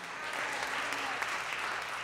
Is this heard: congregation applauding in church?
yes